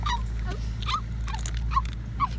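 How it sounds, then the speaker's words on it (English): A dog on a boat whimpers and yips in short high-pitched bursts, a handful of whines spaced apart over a low engine hum. "I think there's a dog on our boat."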